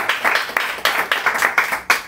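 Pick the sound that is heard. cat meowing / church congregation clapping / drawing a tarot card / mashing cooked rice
church congregation clapping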